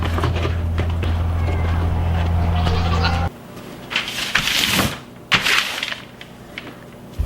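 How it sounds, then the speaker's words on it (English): Goats bleat in short, uneven calls at feeding time while a steady low machine hum runs underneath, then cuts out, leaving the bleats louder and clearer against a quieter background. "Feed the goats and Big Red."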